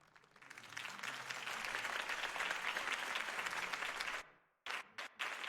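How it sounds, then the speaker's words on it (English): A crowd bursts into sustained, dense applause at a political campaign rally in the Batman Telltale video game, swelling loud and steady before cutting off abruptly, followed by a few short clipped bursts of clapping. "could have heard that applause"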